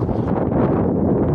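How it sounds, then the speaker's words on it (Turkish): Cold winter wind blows steadily across the microphone in a snowy village near Diyarbakır, a dense, close rumbling whoosh with buffeting gusts and no voices. "Rüzgar var şu an."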